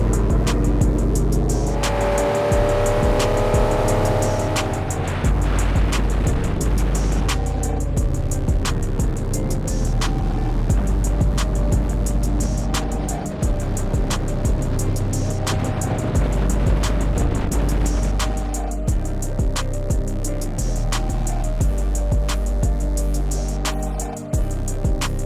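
Race car on a shakedown lap during the Vegas to Reno off-road race, its engine droning loudly and steadily throughout with shifting revs, close to the microphone.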